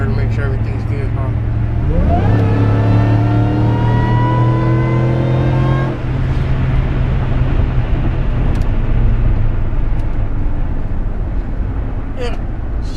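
2005 Chevy Tahoe Joe Gibbs Special Edition V8 revving on a test drive, a loud engine rising in pitch then dropping back to a steady drone with road noise, heard from inside the cabin.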